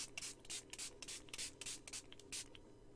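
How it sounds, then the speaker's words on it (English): A handheld spray bottle mists water onto drawing paper in a quick series of short, soft hissing bursts, close and quiet. "I'm using a spray bottle to get my paper nice and wet."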